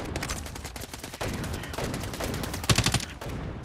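Gunfire in a shooter video game: dense, rapid bursts of shots crackling close and loud throughout, with a sharper, heavier volley near the end and no speech.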